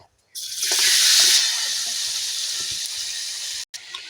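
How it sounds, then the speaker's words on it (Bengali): Food hits hot oil seasoned with cumin, bursting into a loud hiss that settles into a steady sizzle and then briefly cuts off near the end. "তার জন্য এখন আমি এটা এই তেলটার মধ্যে ছেড়ে দেব"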